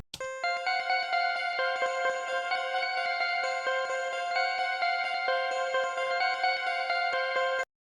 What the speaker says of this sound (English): So I got this ARP from Bass Guitar, and the melody will sound like this.